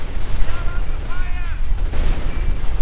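Gunfire in a World War II strategy video game as an American rifle squad is cut down, loud and dense low rumble of shots and explosions throughout, with faint whistling tones over the top.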